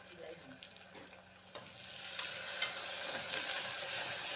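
Meat pieces frying in a pan as they are stirred, a soft steady sizzle building gradually with occasional light scraping clicks, close and alone without talk.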